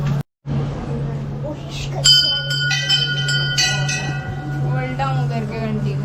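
A temple bell at Kamakhya temple in Guwahati rings out in a few bright, overlapping strikes that shimmer and decay, over a steady low hum and ongoing chatter and crowd voices nearby.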